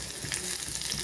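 Hot oil heats in a pan for a Bengali egg curry, giving a steady, close sizzle and crackle with no pauses and no voices.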